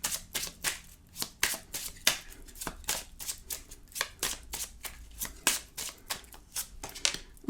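Tarot cards are shuffled by hand with quick, crisp riffles and flicks, a dozen or more close, light slaps in a brisk uneven rhythm, no talking.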